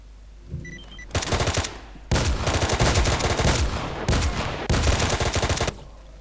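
Loud bursts of rapid automatic gunfire in the video game S.T.A.L.K.E.R.: Call of Pripyat, several long volleys separated by short pauses, close and sharp with a heavy low rumble.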